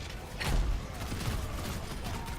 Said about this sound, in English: cool guys don't look at explosions, by the way